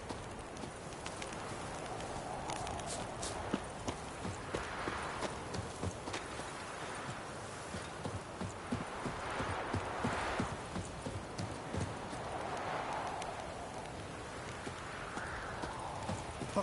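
Steady clip-clop of horse hooves from The Witcher 3 video game, a continuous rhythmic trot under a bed of ambient outdoor noise with no talking.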